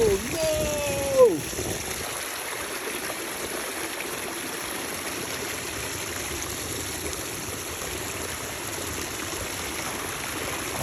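Water trickling steadily out of the ground beside a found Land Cruiser, a continuous close burble that runs throughout after a brief bump and a rustle at the start.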